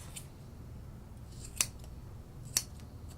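Two crisp snips of straight grooming scissors cutting a poodle's hair, close and distinct, separated by about a second over a quiet room hum.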